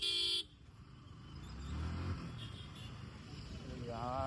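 Road traffic jam at a crowded circle with car horns honking, a short loud blast at the start, then a dense jumble of engines and repeated honks mid-distance, with a rising horn or siren-like tone near the end.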